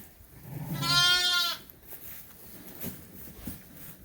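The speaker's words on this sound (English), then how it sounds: "there's Lynn's pet sheep" A pet sheep in a barn lets out one loud, close, wavering bleat, after which only faint barn sounds and quiet shuffling remain.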